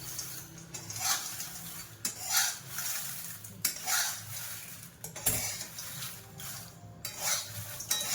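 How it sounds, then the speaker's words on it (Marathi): Dried red chilies roasting in a little oil in a pan, with a steady sizzle under repeated scraping strokes of a spatula against the metal at an even rhythm, close and clear, no speech. "थोडी थोडी करून मिरची भाजायची आहे चांगली. थोडंसं तेल टाकायचंय."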